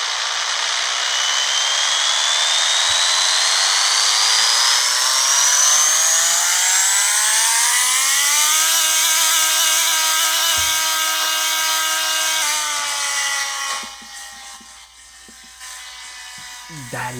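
A game car engine in Pixel Car Racer revs steadily up toward 9,000 RPM as a rising, whining drone, holds high and loud, then shifts and drops away near the end, with a voice talking over it.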